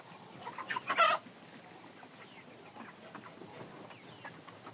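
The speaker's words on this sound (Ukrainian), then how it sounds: "Джерси півні на вагу вже хорошенькі такі" Jersey Giant roosters clucking, a brief burst of loud clucks near the start, then quieter scattered clucking and barnyard sounds in the background.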